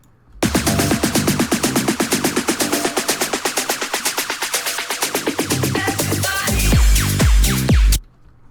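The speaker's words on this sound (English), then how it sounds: "another thing I did with only this build-up was I used a master cutoff frequency" Tech house build-up with a master high-pass filter: fast, loud repeating synth stabs and drums that thin out the low end, then heavy bass kicks slam back in before a sudden cut.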